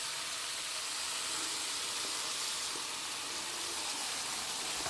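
Koi fish frying in hot oil in a pan, a steady loud sizzling hiss that carries evenly throughout without pause, with no voices over it.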